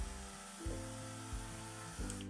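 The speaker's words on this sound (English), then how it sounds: "press the power button and it starts spraying continuously" Electric handheld plant water mister running continuously, a steady motorized hum with a fine hiss and a few brief pulses in pressure, close and alone.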